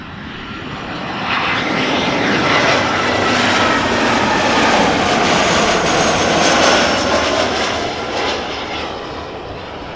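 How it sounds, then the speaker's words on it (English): A business jet passes over Amsterdam Schiphol, a broad engine roar swelling in after a second, holding loud and steady, then easing slightly near the end, with no voices. "I think it was a BizJet."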